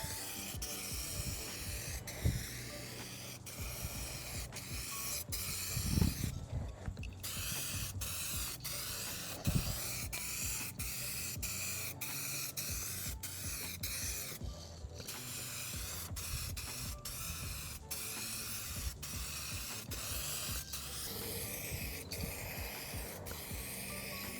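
Aerosol rattle cans spray metallic midnight purple paint onto an old car, a close, loud hiss cut into many short, evenly repeated bursts with brief pauses, and no voices.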